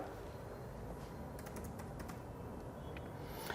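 Quick, light keystrokes tap on a computer keyboard in a short burst, soft and close against a low steady room hum.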